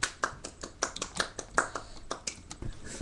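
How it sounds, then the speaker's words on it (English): A series of sharp claps, about a dozen irregular hand hits, close and crisp with no talking. "A clap for me."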